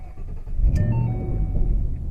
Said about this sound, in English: let's go ahead and start it up.